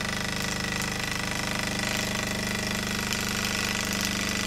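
An old, heavy, solidly built model steam engine with a copper boiler and mostly brass fittings runs steadily, a continuous even mechanical chugging and hum at a constant level with no voices.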